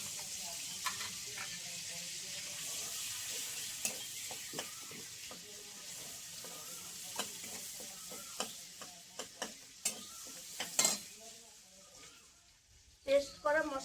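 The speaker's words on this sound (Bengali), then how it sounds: "যেই তেলে আমি পনির ভেজেছিলাম সেই তেলের মধ্যেই আমি একটু বাটার দিয়ে দেবো" Butter melts into hot oil left from frying paneer in a kadai, making a faint, even sizzle with scattered light clicks and ticks that grow busier toward the end.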